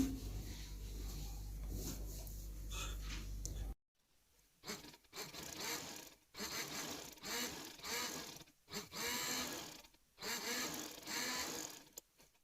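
A sewing machine runs a line of stitching along the edge of a trouser hem, a close steady hum for several seconds that then breaks into short rapid bursts with pauses between them.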